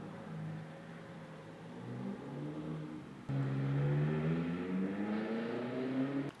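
A loud car goes by close at hand, its engine tone rising and growing stronger in the second half before it cuts off abruptly; no one speaks.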